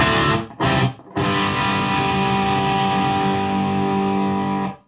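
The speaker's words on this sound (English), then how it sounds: "So we've got the distortion down low" Electric guitar played through a Boss Metal Core ML-2 distortion pedal set low: a couple of quick strums, then one heavily overdriven chord ringing out loudly before cutting off.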